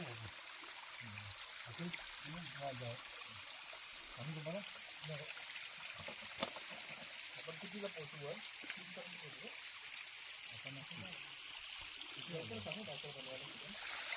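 Water runs steadily down a stream in a mountain ravine on the Chondhe Ghat trail near Ghatghar. The constant rush fills the background while people talk over it in the foreground.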